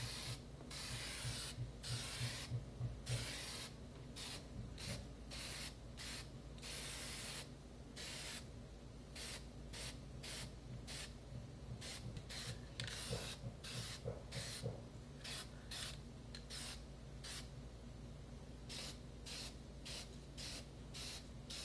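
Aerosol spray paint hisses in repeated short bursts and longer passes while a camouflage finish goes onto a gun, steady and close with brief pauses between sprays and no talking.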